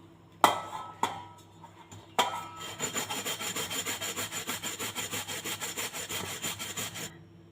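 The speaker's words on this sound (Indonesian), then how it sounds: "Jadi ini mau saya parut." Papaya being grated by hand on a traditional village grater still stained from turmeric, starting with two sharp knocks, then a steady run of close rhythmic rasping strokes lasting several seconds with no talk.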